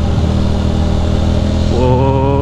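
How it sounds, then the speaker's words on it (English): Ducati motorcycle engine drops a gear or two on the approach to a sharp turn on a road around a reservoir, a loud continuous close-up roar whose pitch jumps and climbs as revs rise with the downshift near the end. "A little downshift. A gear or two."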